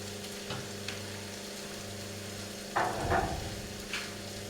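Eggplant frying in a pan with garlic, onion, and green and red peppers gives a steady low sizzle, with a few scraping stir strokes near the end and no voices.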